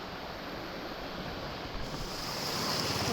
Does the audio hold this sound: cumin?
no